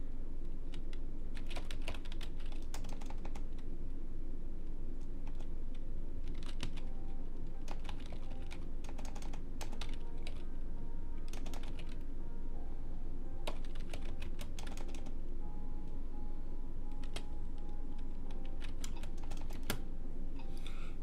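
Typing on a computer keyboard, rapid irregular clicks in bursts with short pauses, close over a steady low background hum, no talk.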